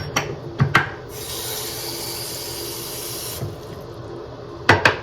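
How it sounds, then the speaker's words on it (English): Water runs steadily from a bathroom faucet into a sink with a hissing splash, framed by a few clicks and knocks at the start and end. "I'm going to turn on the water"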